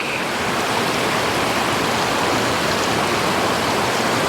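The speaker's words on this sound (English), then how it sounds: "down at the creek" A creek in Washington State rushes steadily with a dense, unbroken wash of flowing water, loud and close, with no other sounds standing out.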